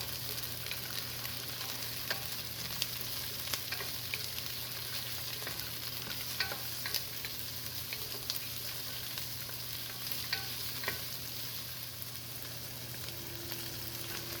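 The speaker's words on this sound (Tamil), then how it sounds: "இப்போ குடைமிளகாயை சேர்த்து 2 நிமிஷம் வதக்கிட்டு அப்புறம் ப்ரக்கோலியை சேர்த்து வதக்கலாம்." Capsicum sautéing in a pan for curried veggie pasta, giving a continuous sizzle with light clicks and pops. The sound is steady and moderately quiet, with nobody speaking.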